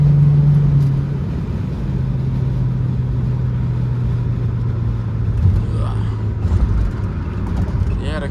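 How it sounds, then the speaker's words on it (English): A 2004 Chrysler Crossfire engine drones steadily while driving, with a low hum and occasional revving swells, close and continuous throughout. "the car definitely sounds pretty good in my opinion"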